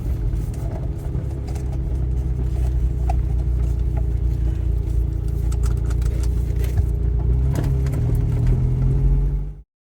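A 1990 Volvo 245 heard from inside while driving, a steady low engine drone and road rumble throughout with small rattles, ending abruptly.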